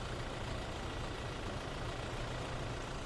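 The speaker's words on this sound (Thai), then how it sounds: "เดี๋ยวฟังเสียงเครื่องยนต์นิดนึงนะครับ" A 2.8-litre Toyota Fortuner engine idles with a steady, even low rumble, continuous and unchanging, with no voices over it.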